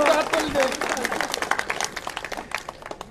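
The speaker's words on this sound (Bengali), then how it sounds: "আমরা সবাই ওনাকে হাততালি দেই।" An audience at a Burunga Union Foundation gathering claps for the foundation officials, brisk scattered hand claps that start after a short voice and slowly thin out.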